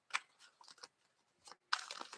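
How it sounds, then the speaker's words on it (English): Tarot cards are shuffled in short, quiet riffling bursts, soft papery flicks separated by brief pauses, close and faint. "Let me give these another shuffle here."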